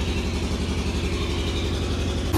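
A Swaraj tractor engine runs steadily, a loud, even low-pitched chug that holds constant for a couple of seconds with a short bump near the end.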